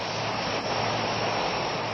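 Cargo aircraft engines run at an airfield in a steady, loud, unbroken roar with no pauses.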